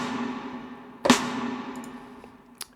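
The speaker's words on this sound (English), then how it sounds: "I use Super Plate by Sound Toys, so it becomes this." A single snare drum hit drenched in Soundtoys SuperPlate plate reverb sits over a steady sustained pad, with a bright crack followed by a long smooth tail and a fainter second hit near the end.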